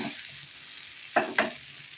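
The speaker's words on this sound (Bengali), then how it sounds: "আমি একটু ঘুরিয়ে ফিরিয়ে একটু ভাজা ভাজা করে নিচ্ছি" Potatoes with capsicum and tomato fry with a soft steady sizzle, broken by two quick scraping strokes of a spatula against the pan.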